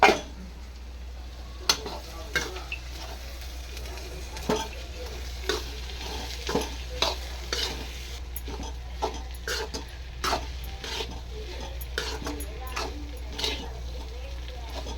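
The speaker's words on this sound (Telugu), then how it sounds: "ఇప్పుడైతే నేనైతే గుగ్గులైతే వేసేస్తున్నాను" Moong dal guggulu stirred and fried in a pan, a low steady sizzle broken by regular sharp scrapes and clinks of the spoon against the pan, with a voice talking faintly under it.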